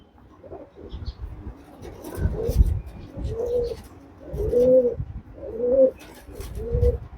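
Andhra pigeons coo in a repeated, rhythmic series of soft throaty calls close by, with faint background rustling and no talk over them.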